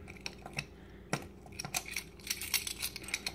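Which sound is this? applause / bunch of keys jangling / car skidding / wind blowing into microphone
bunch of keys jangling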